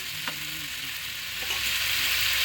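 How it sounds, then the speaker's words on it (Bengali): Mixed winter vegetables with spices are stirred in a frying pan, a steady close sizzle with a couple of soft utensil knocks and the hiss swelling slightly toward the end. "এটাকে একটু ভালো করে নেড়ে নিচ্ছি যাতে মশলাটা সবজির সঙ্গে মিশে যায়"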